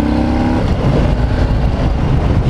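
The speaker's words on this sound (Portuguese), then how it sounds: "O motor ronca forte" A 2020 Harley-Davidson Low Rider S motorcycle engine roars loudly and close during a test ride, a dense, continuous growl with a brief steadier tone at the start, then rough rushing power with no speech.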